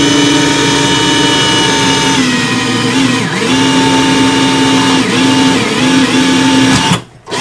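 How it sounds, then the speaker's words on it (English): Power drill boring straight down into the bridge of a Kay K536N acoustic guitar, a loud steady whine held close for several seconds with slight pitch dips, then cutting off abruptly near the end. "I'm going to drill straight down."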